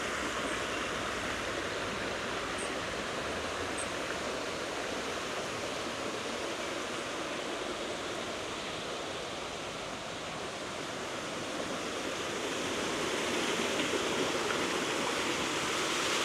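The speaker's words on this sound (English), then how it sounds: "kind of artificial but beautiful little cataract waterfall" A small artificial cataract waterfall with a grotto in historic Dole, France, gives off a steady, even rush of falling water that stays unbroken throughout.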